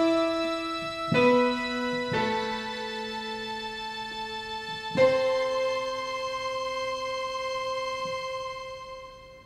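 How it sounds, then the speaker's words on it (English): Positive Analog synth bell patch layered with piano, bright harmonic-rich chords struck at a few points and ringing out with sustained tones, played alone without talk. "Next, I've got another kind of bell sound. This is called positive analog,"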